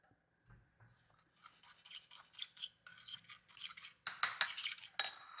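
Pork chop marinade being stirred and mixed in a bowl, a run of quiet scraping clicks and wet clinks that grows busier and louder toward the end, with no voices.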